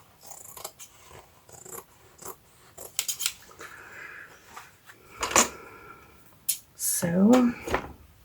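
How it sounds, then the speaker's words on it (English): Scissors snip loose threads off a ringbound journal cover in a handful of short, crisp cuts spread over several seconds, close by, with a person talking between them. "I do need to cut off the threads"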